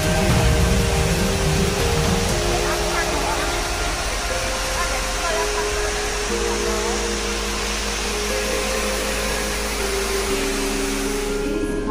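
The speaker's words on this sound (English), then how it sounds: "ini waterfall view dulu ya" The indoor waterfall at Cloud Forest, Gardens by the Bay, roars as a steady, dense rush of falling water throughout, with low humming tones and a voice speaking faintly beneath it.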